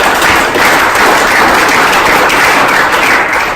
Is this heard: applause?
yes